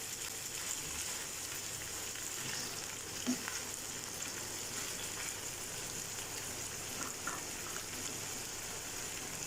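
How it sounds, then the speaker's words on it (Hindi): Sliced chicken strips fry in a pan for chicken pasta, giving a steady, even sizzle throughout with faint crackles and a single soft knock partway through, no talking. "अब इसको हल्का सा फ्राई कर लेंगे।"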